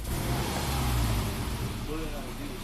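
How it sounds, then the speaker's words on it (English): A Subaru with a high-idle fault revs briefly as the gas pedal is tapped, a steady mid-range engine hum swelling near the start and then easing back, close and fairly loud with no talking. "If I just tap the gas pedal,"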